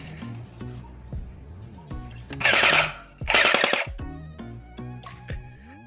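A Chinese G3 BB gun fires at a beer can at close range, giving loud sharp cracks and two bursts of rapid clattering shots with metallic knocks in between, with no talk.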